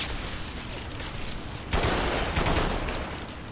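Rapid gunfire bursts in the shooter video game Bodycount, a fishing village battle with dense automatic shots building into a louder volley midway, nearly free of speech.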